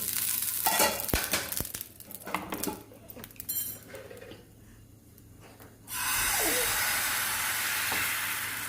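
Taco dough frying on a tava: metal utensil clinks and scraping first, then a loud steady sizzle that swells up close and continues to the end.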